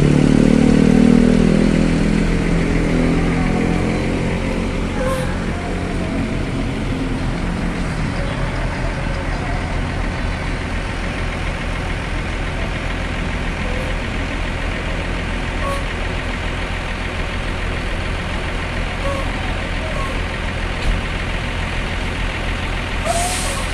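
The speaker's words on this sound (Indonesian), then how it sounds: "Ada bis Lahat Sinar Dempo SD049 baru memasuki terminal Kampung Rambutan." A Sinar Dempo bus to Lahat pulls into Kampung Rambutan bus terminal in the morning, its heavy engine loud at first and then settling into a steady rumble with other traffic, faint background voices and scattered brief hisses.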